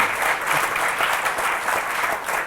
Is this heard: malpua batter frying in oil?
no